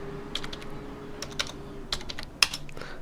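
Commands typed on a computer keyboard at a Windows PC, a few scattered, close key clicks with irregular pauses and one sharper keystroke near the end, over quiet room hum.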